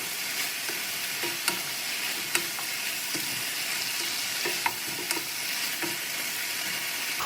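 Mixed seasonal vegetables sizzle in a frying pan, a constant bright hiss with sharp clicks and scrapes as a utensil stirs them, steady and close with no voices.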